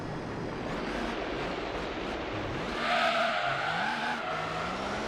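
A race car in Gran Turismo 3 howls through its gears, the engine pitch climbing and falling in repeated sweeps, while a loud, sustained tire squeal and skid rises midway over a constant rushing roar.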